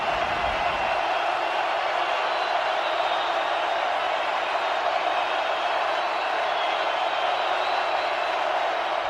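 A raucous stadium crowd roars in a steady, dense wash at Lumen Field during a Seahawks vs Titans NFL game, loud and continuous throughout.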